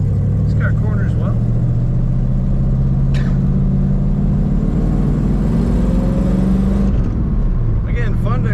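A 1937 Ford Deluxe Sedan accelerates, its engine a loud, steady low rumble with rising tone, close and continuous under cabin noise; a person talks briefly over it.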